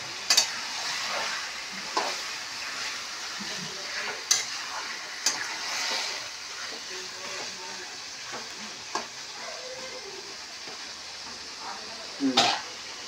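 Food fries in a pan while being stirred, giving a low continuous sizzle with scattered spatula clinks and scrapes at irregular intervals.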